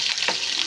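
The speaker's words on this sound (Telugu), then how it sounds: "బాగా ఫ్రై అవ్వనివ్వాలండి." Tempering (popu) of red chillies and peanuts frying in hot oil for raw mango pulihora, a steady close sizzle with a brief stirring scrape in the middle and no talk.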